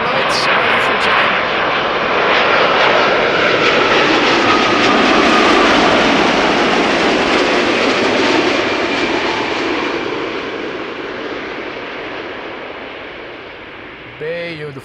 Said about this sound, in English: Saudia Dreamliner is coming in, that we can see.